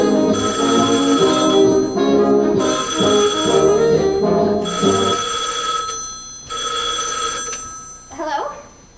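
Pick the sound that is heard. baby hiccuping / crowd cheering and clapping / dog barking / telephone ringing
telephone ringing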